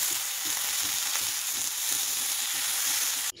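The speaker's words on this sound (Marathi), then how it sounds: "ही मोड आलेली मुगाची भाजी मी ह्या लोखंडी कढईमध्येच बनवून घ्यायला लागलेली आहे" Sprouted mung beans sizzle and fry steadily in an iron kadhai, a dense continuous crackle with faint stirring pulses, close and loud, no voices, cut off abruptly at the end.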